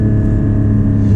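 A Porsche 718 Cayman GT4 with a manual gearbox and a mid-mounted engine pulls hard in second gear. Its loud, steady, low-pitched engine roar fills the short burst without any speech.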